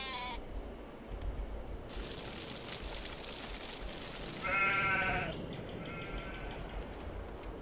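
Sheep in the Farm Sim 22 video game bleat in a few clear calls from around 4.5 to 5.5 seconds, heard against a steady ambient farm background with no talking.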